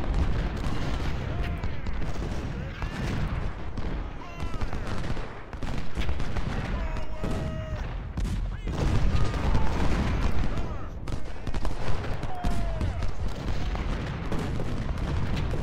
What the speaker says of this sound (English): He's just going to sit there and keep getting picked off a little bit at a time by all my artillery.